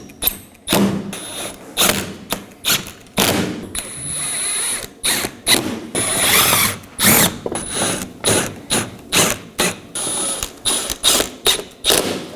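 A ratchet wrench clicks rapidly in repeated bursts, close and loud, as four 7mm bolts securing a mud guard are run in on a 2018-2024 Chevrolet Equinox, with brief pauses between strokes and no talking.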